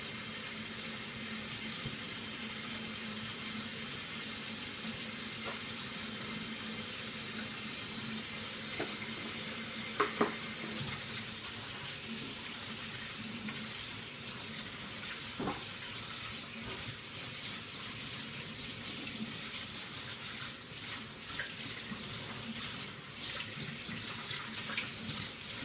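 A kitchen tap runs continuously while a spatula is washed beneath it, a steady close rush of water with a few faint clinks and scrapes of the utensil.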